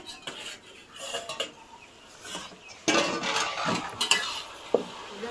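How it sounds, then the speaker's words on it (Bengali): A metal pot lid is lifted off and handled during cooking, giving close clanks and scrapes of metal with a soft sizzle underneath and a sharper clatter partway through, and no voices. "চাপা খুলে দেখে নেবো কেমন হয়েছে।"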